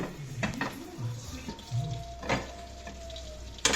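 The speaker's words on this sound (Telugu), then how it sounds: "తర్వాత కొంచెం నూనె వేసుకొని" Oil poured into a hot pan while making chukka kura pachadi, with soft sizzling, scattered clinks of utensils against the pan and a faint steady hiss, fairly quiet overall.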